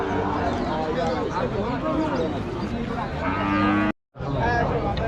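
Several cattle moo loudly and repeatedly at a livestock market in Rajshahi, long drawn-out calls overlapping, with crowd chatter and a busy outdoor bustle underneath.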